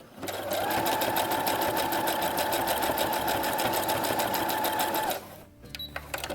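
A sewing machine stitches a zigzag reinforcing stitch on a Star Wars jumpsuit, running fast and steady with a close, rhythmic needle clatter for several seconds before stopping with a few clicks.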